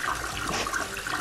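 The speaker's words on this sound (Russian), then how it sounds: "Зато у него есть звук смывания, когда он его убивает." A toilet flush from a Skibidi Toilet mod in Garry's Mod, a short loud rushing gurgle of water heard on its own with no voices.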